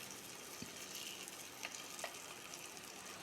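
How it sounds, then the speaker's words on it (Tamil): Eggs roasting in oil in a pan, a faint steady sizzle with a few soft clicks of stirring or nudging, no talk. "ஒரே சைடு ரோஸ்ட் ஆகாமல் எல்லா சைடும் ரோஸ்ட் ஆகிற மாதிரி பார்த்துக்கோங்க"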